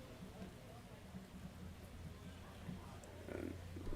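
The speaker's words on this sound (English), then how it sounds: "rain starting to intensify, starting to hear it hit off of the ground" Rain intensifies during an evening summer collegiate baseball game, a faint steady patter hitting the ground across the field that grows slightly louder toward the end, with low crowd murmur underneath.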